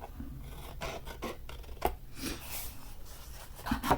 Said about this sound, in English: cut straight down the score line to the score mark